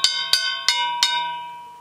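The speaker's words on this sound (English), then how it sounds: "I have a very light steel hoop," A tom fitted with a very light steel hoop is struck four times at an even pace, each hit ringing out with a bright, bell-like metallic tone that lingers and fades, close and alone.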